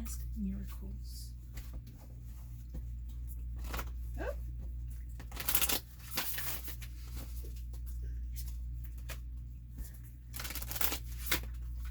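A deck of oracle cards is shuffled in a quiet room, giving a few short papery riffling bursts separated by pauses, close and soft against a low background hum.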